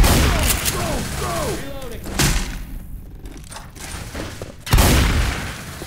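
Shotgun blasts in Left 4 Dead 2, several booming gunfire bursts spread across the stretch with chaotic game effects and other sounds between them, the loudest blast near the end.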